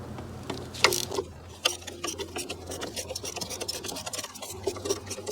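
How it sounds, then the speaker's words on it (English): A 12mm lock bolt is loosened with a ratchet wrench during crankshaft pulley repair on a Toyota Camry 2.2L, giving rapid close clicking ratchet strokes in irregular bursts with scraping metal sounds. "So I'm gonna loosen the lock bolt here. It's a 12mm."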